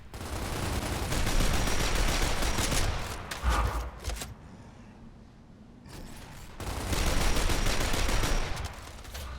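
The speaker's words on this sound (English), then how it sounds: "the stub pistol audio is at its best in this beta" Stub pistol fire in the Gears of War Ultimate Edition beta, loud sharp shots fired in rapid bursts with a short quiet gap between two volleys.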